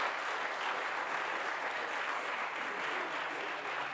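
An audience at an annual meeting gives a faint, distant round of steady clapping that holds evenly for a few seconds.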